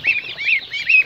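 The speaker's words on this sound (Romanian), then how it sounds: "Uitați rațele, cât sunt de frumoase." Farmyard ducks give three loud nasal calls in a steady rhythm, close by and unaccompanied by any talk.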